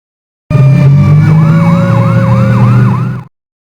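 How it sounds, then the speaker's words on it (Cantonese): A toy fire truck's electronic siren wails loudly in a rapid, repeating up-down sweep over a steady tone, close up, lasting about three seconds then cutting off abruptly. "fire truck"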